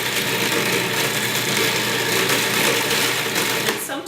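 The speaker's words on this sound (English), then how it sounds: "I'm going to turn it on until I see a nice creamy consistency." A food processor blends avocado guacamole ingredients with a steady, loud, continuous whir. The motor winds down at the very end.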